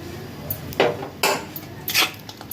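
Roasted vermicelli is mixed into semiya puttu in a vessel, with three or four close clattering scrapes of a utensil against metal over a low, quiet background.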